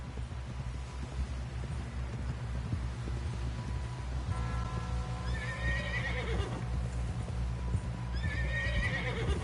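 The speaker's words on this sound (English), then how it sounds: "Someone help John down off this horse." Rhythmic thud of horse hooves galloping in a PS4 video game, with a horse whinnying loudly over the steady beat; no talking.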